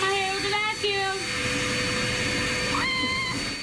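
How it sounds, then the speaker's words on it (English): A vacuum cleaner is used to style hair, giving a loud, close, continuous motor drone with high whining tones that rise and fall over it. "I'm about to do my hair with a vacuum."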